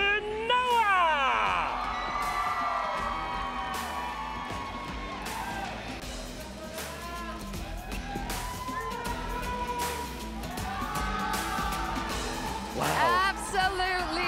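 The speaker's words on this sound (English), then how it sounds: "Absolutely wicked crowd." A large crowd cheers, whoops and screams at the MWI 2024 esports grand finals at the Esports World Cup, with sustained loud arena noise and rising swells of shouting under announcer talk.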